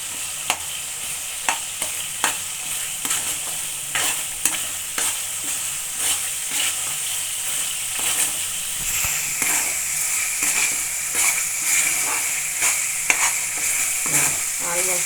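Hot oil sizzles and crackles steadily as curry leaves are dropped in for puliyogare, with sharp popping spits recurring throughout, close and fairly loud.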